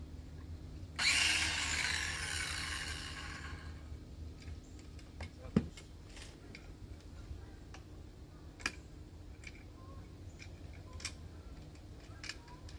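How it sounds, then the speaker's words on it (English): A Ryobi cordless saw cuts through firewood in a short loud burst near the start, then quiet follows with scattered sharp ticks and clicks, and no one speaks. "My new saw out of my new kit. I bought the whole kit from Ryobi"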